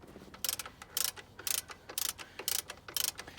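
A socket wrench ratchets steadily on a bolt on a 2000 Subaru Outback alternator, giving a regular series of close, crisp clicking bursts about twice a second, alone and fairly quiet.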